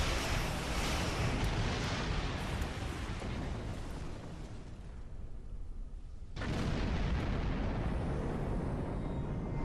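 Loud, dense barrage of rumbling space-battle explosions from The Sentinels of Andor video game, continuous booming that briefly thins to a quieter lull before surging back at full intensity.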